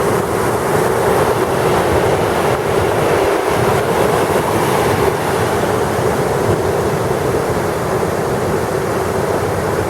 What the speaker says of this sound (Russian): Вот такая вот картина падающей воды.